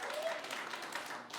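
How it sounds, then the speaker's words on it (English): Audience at a late-night comedy show clapping and cheering, a moderate steady burst of mixed clapping with some voices, fairly distant and soft in level. "By round of applause, who's a Game of Thrones fan here?"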